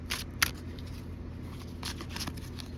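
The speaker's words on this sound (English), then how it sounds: "Let's do a shuffle." Quick riffling bursts of cards being shuffled, two short flurries a second or so apart, close by against a steady low outdoor hum.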